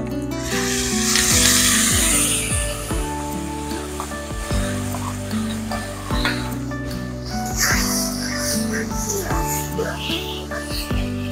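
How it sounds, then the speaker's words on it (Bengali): Tamarind mixture frying in oil with garlic, ginger and dried chili for a coriander pickle, a soft steady sizzle under background music with a voice talking over it. "তেঁতুলের মিশ্রণটা আমি ভালোভাবে ভেজে নিয়েছি"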